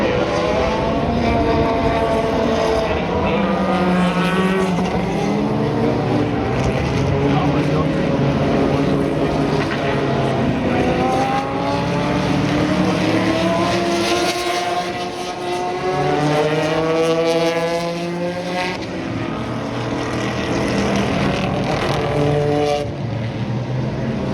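A 2009 car drives past during a Monterey Car Week event, its engine a loud sustained roar rising and falling in pitch as vehicles pass, with voices audible over it.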